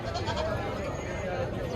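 Goats bleat at a busy livestock market ahead of Qurbani, their calls mixed into a dense crowd murmur as people talk nearby.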